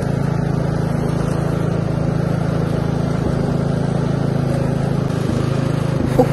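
Westwood S1300 ride-on lawn mower driven quickly, its engine a steady, close drone with a constant low hum that holds evenly throughout.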